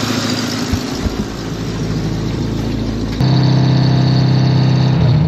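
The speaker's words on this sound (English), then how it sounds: "That's not a bad exhaust tone when you consider that's all on one manifold and one pipe." A Ford flathead car engine idles with a steady low rumble through its exhaust, run through a single manifold and single pipe, growing fuller and louder partway through, with no talking.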